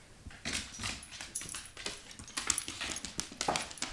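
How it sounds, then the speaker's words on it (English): A dog's overgrown nails click on a wood floor as she walks over, giving quick, irregular taps that grow louder and denser as she comes closer, with soft panting-like noise between the steps. "That clicking tells me that her nails are really too long as they hit this wood floor on her way over"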